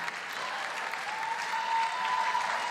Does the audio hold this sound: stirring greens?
no